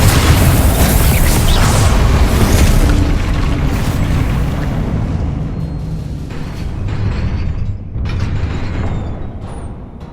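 Confringo and Incendio spells explode in the video game Hogwarts Legacy during Percival Rackham's Trial, a dense, loud rumble of booming blasts and crackling impacts that runs continuously and eases slightly toward the end.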